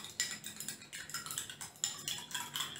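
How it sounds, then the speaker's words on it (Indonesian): A metal spoon stirs sugar into water in a glass, making a quick run of bright, close clinks and scrapes that repeat steadily for a few seconds with no talking. "Kita aduk ya."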